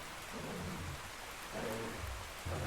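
Steady rain hisses continuously across the whole stretch, with low, soft rumbling underneath; no one speaks.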